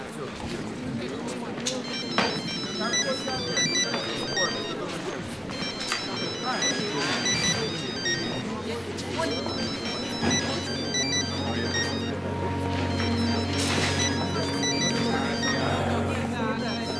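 Mobile telephone ringtone chiming repeatedly in a hospital setting, a melodic electronic tune running steadily for many seconds, moderately loud beneath tense overlapping voices and movement.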